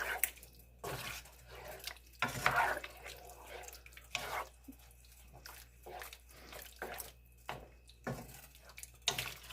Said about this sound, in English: And now I'm going to add in a pack of Lipton onion soup mix. And we're just going to mix all this together